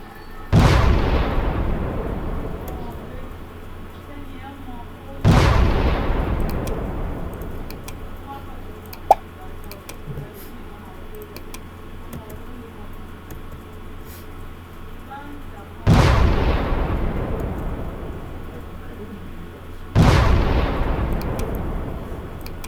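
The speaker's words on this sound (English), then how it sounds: "I'm gonna need the explosion sound" Video game missile explosions: four loud booming blasts spaced several seconds apart, each a sharp impact followed by a long rumbling decay, with a small pop between the first two.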